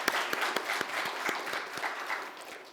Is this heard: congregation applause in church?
yes